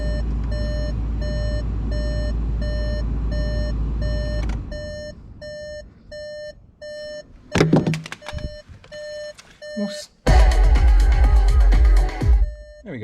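Regular electronic car warning beeps repeat in an even rhythm throughout with the ignition on, over a low engine rumble at first, later joined by clunks and rustling handling noises.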